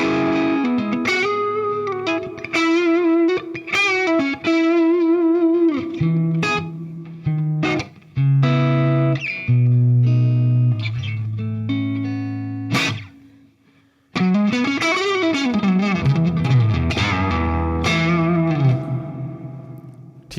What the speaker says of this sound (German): dann habe ich schon einen ziemlich geilen gainy Sound, wenn ich auf dem Humbucker bin